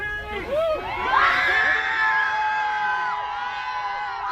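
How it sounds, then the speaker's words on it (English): A crowd in Minneapolis cheers and shouts at the verdict in the Derek Chauvin trial, with loud overlapping voices, whoops and screams building and holding over several seconds. "Crowds in Minneapolis reacting to the jury's verdict in the Derek Chauvin trial."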